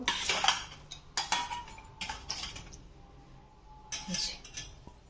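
Metal puja utensils scrubbed clean with Pitambar powder, giving bursts of scraping and clinking metal, close and moderately loud, in irregular strokes with brief pauses.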